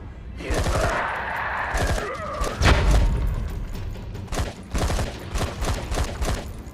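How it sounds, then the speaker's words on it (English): A turret fires in the zombie video game ZOMBI, delivering bursts of heavy, booming shots in uneven clusters, loud and close, with sharp thumps standing out alone between short gaps. "Haven't gotten a chance to use this turret, have I?"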